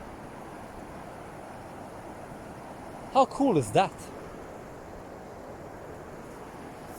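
Ocean waves wash steadily onto a sandy beach, a constant broad hiss with some wind, while a person briefly speaks partway through.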